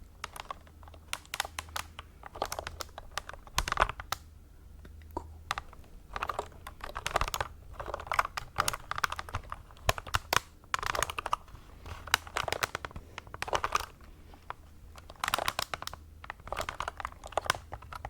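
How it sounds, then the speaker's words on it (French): Continuous clicky typing on a plastic SteelSeries keyboard, fast irregular keystrokes with brief pauses, close and fairly quiet. "C'est un clavier de chez SteelSeries"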